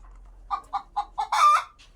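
A local chicken clucking close by, a quick series of four or five short clucks ending in a louder drawn-out squawk, with no other sound around it.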